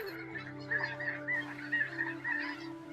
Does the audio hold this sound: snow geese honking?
yes